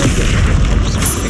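A Confringo spell blast in Hogwarts Legacy, played on hard difficulty: one short, very loud, booming burst that is close and fills the whole moment.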